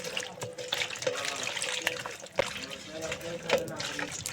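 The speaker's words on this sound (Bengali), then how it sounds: "আমি শুটকি একটু গরম জল দিয়ে ভালো করে ধুয়ে নিচ্ছি।" Dried fish being rinsed in warm water, with running tap water splashing and trickling steadily into a sink, close by and moderately loud, alongside a few sharper clinks.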